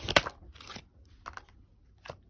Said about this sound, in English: Shuffle one more time for any jumpers.